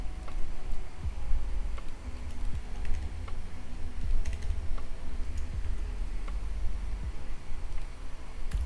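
Letters typed on a computer keyboard, soft scattered key clicks over a low background hum, faint and close, without speech.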